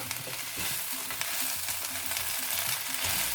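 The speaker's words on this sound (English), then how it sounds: "What I'm going to do is add in the noodles. So I'm basically going to mix it all together." Indomie instant noodles and softened vegetables stir-fried in a pan, a steady loud sizzle running throughout with repeated scraping and tossing strokes of the stirring utensil, no voices.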